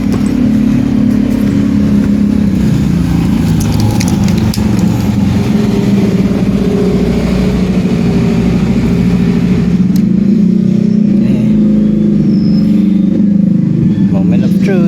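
A Kawasaki ZX4RR motorcycle with a noisy cold start runs loud and close, a steady low engine drone that swells slightly as it is revved, continuing for several seconds.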